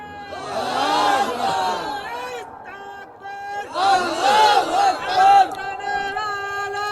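A crowd at an outdoor religious sermon in Satkhira shouts takbir in unison, two loud collective chanting bursts with a short pause between them, voices rising and falling together.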